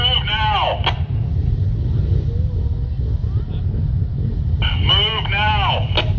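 OPP Golden Helmets police motorcycles idle and rumble at Blue Mountain, a continuous low engine drone. Short amplified voice calls ring out over the engines near the start and again near the end.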